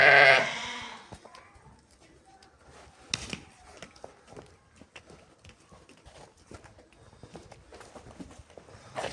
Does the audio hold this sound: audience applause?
no